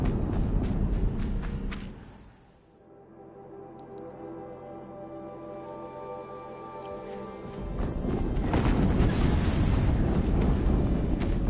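Explosions in the video game Horizon Zero Dawn: a heavy rumbling blast fades into a sustained tonal hum, then a second loud, broad roaring burst follows and holds to the end.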